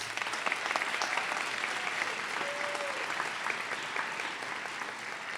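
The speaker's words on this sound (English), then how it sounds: "let's give all of those teams a round of applause." An audience at a nursing school white coat ceremony applauds steadily, a sustained wash of clapping from a crowd with a few scattered cheers.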